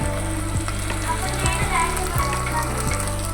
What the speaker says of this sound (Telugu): అల్లం వెల్లుల్లి పేస్ట్ వేగాలి కొంచెం కరేపాకు వేసుకుంటాము దీంట్లోకి